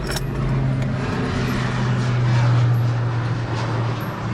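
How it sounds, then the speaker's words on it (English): A crop duster airplane passes overhead, a steady propeller drone that swells slightly as it nears, heard outdoors over a low background rumble. "Crop duster flying over us"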